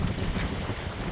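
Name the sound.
wind on a sailboat at sea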